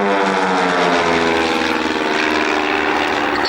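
RV-8 propeller aircraft performing at an airshow at Cosford, a loud, steady droning engine and propeller roar sustained throughout with harmonic tones, close and unbroken, no talk.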